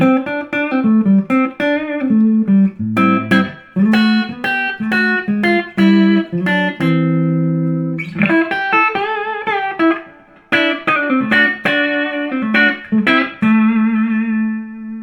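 Loud electric guitar through a modified Fender Blues Junior tube amplifier with a distorted, reverberant tone, strummed chords and riffs with brief pauses between phrases.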